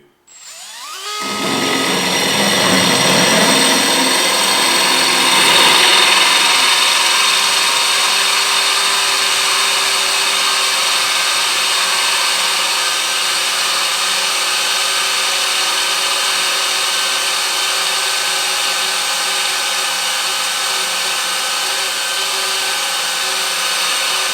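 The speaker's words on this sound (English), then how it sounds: "It's for drilling tiles or porcelain and granite." A power drill with a tile bit whines steadily and loudly through hard porcelain tile, starting abruptly and holding a continuous high-pitched grinding tone for the full duration.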